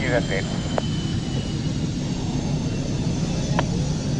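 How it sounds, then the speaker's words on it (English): A Finnish Air Force F-18 jet at the Royal International Air Tattoo gives a steady, broad roar that holds at a constant level throughout, with a few brief higher tones over it. "here it is, the brilliant F-18 from the Finnish Air Force"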